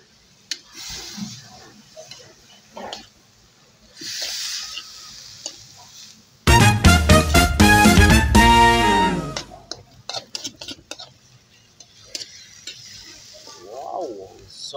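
Bitter gourd (ampalaya) dropped into a hot pan with shrimp gives a sudden loud burst of sizzling and clattering, fading over a few seconds, with quiet kitchen noises and light movement before and after.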